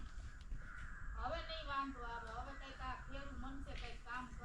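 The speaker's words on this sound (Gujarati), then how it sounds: "પક્ષીઓ જો બોલવા માંડ્યા બધા ફ્રેશ થઈ ગયા હવે" Crows caw outdoors on a farm after the weather clears, with several rough calls over about three seconds. A voice talks at the same time as the birds.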